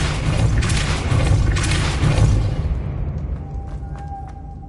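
Depulso force spell cast in Hogwarts Legacy: a loud, close booming blast with a rushing crash that fades over a few seconds into quiet, leaving faint clicks and a thin tone.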